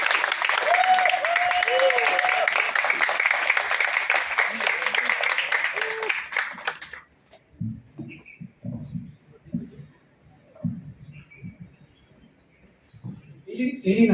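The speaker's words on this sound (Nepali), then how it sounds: "ताली बजाउने छौँ तपाईँले" Guests at a wedding ceremony clap together in a loud, sustained round of applause lasting several seconds before it fades out, followed by someone speaking over a quiet room.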